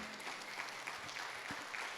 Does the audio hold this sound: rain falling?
no